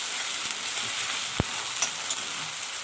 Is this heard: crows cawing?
no